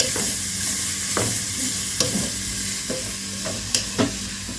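Ingredients stirred in a sizzling frying pan for a bread chicken pocket filling, a steady loud fry punctuated by repeated scraping and knocking of the spoon against the pan, close and without talk.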